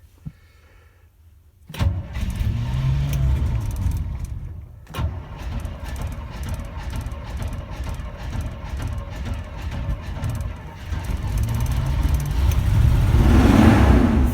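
A 1976 GMC Itasca RV is cold-started in freezing weather. After a quiet pause the engine cranks and catches, stumbles briefly, then settles into a loud rough idle and swells into revving toward the end.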